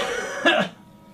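A single short cough from a patient with a bulging spinal disc, one close, sharp burst followed by quiet.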